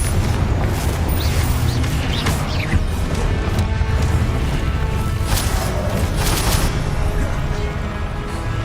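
A Confringo blasting spell goes off in Hogwarts Legacy: a dense, loud barrage of booming blasts and crackling bursts that carries on without a break, with no speech.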